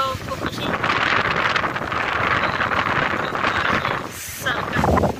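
Strong pre-monsoon wind roars through trees, a loud, sustained rush with heavy microphone buffeting that eases briefly near the end before surging again.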